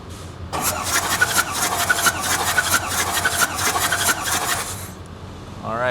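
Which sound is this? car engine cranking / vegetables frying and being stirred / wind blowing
car engine cranking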